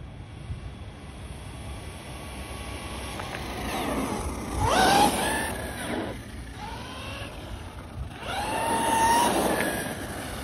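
A Laegendary Thunder electric RC car motor on a nearly drained battery near its low-voltage shutoff whines up and down in two throttle blips, rising and falling pitch sweeps over a steady background hiss, with no talk.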